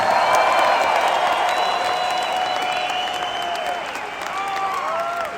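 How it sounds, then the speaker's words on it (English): Sustained applause and cheering from a large audience for an orchestra at a rock concert in Las Vegas, a dense continuous clapping wash with crowd noise, loud and steady throughout. "Please give them a big hand."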